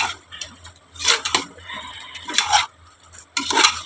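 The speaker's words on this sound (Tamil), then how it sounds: "இப்படி நல்லா கிளறி விட்டுக்கணும்." A spoon scrapes and clinks through a chicken masala mixture in a pot for biryani, making several separate bursts of metallic stirring with short pauses between them, close up and fairly clear.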